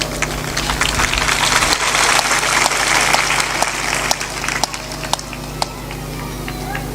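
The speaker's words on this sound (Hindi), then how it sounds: "ताली भी थोड़ा जोर से बजाया करो।" Audience clapping at a Hindi spiritual discourse, steady dense applause with a constant low hum underneath, continuing for several seconds before tapering slightly at the end.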